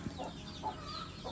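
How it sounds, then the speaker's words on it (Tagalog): Pet chickens cluck quietly in short, scattered bursts at a farmyard home, faint and somewhat distant with no voices. "Mga alaga niyang manok."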